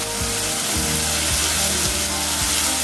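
Capsicum drops into a hot frying pan for kids' macaroni and sets off a steady, close sizzle that runs the whole time, with a low droning tone beneath it and no voices.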